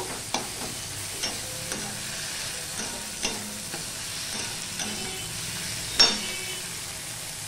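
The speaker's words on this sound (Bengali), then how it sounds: "টমেটোগুলো দিয়ে আমি ভালো করে এইভাবে পেস্ট করে নেব" Tomatoes and green chillies mashed in a hot frying pan with garlic, a continuous sizzle broken by repeated soft scraping presses of a spatula, close by.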